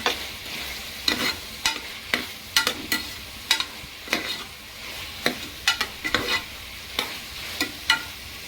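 Food stirred and mixed in a hot pan during simple bachelor-style home cooking, with repeated sharp scraping strokes of a spoon over a steady low sizzle, close and clear with no talk.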